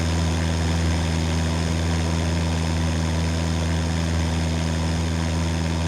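Steady, loud drone of a Piper Cub's light aircraft engine at full power during takeoff, a continuous buzzing propeller roar heard from inside the cockpit.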